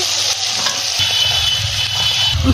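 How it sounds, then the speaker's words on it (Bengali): Vegetables sautéing in a pan give a loud, close sizzle, with a spatula stirring and scraping through them in a few distinct strokes. "সবজিটা কষানো হয়েছে নাকি দেখে নেব, তা দিয়ে একটু নেড়ে নেব।"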